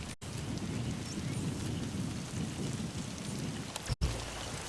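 Steady rain with a low rumble of thunder in the video game Metal Gear Solid V: The Phantom Pain, a continuous wash of rainfall that cuts out briefly near the start and again toward the end.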